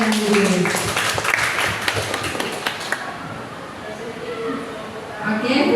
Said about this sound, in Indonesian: Kita beri tepuk tangan untuk Bu Wil dan Bu Yus.